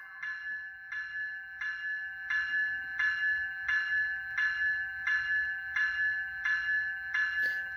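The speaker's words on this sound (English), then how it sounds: "I can't seem to get the bell to shut off on this one." A Scaletrains ES44 model train locomotive rings its bell in steady, evenly spaced strikes, close and clear with a faint hum underneath, ending with a brief click.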